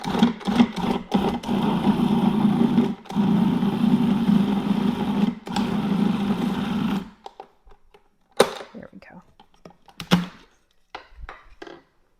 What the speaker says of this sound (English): that poor little processor that could. It's trying